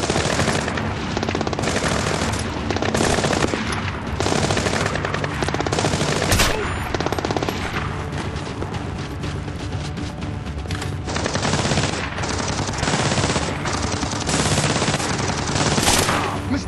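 Loud, sustained machine gun fire in the video game Splinter Cell Blacklist, with dense overlapping bursts of rapid shots rattling continuously, close and without a break.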